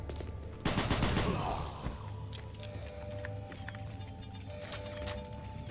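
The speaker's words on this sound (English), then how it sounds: "Oh no, it's just a sentry gun." A sentry gun in Doom 3 fires a dense burst of rapid automatic shots that lasts about a second, loud against a busy game soundscape with tonal hums and scattered clicks.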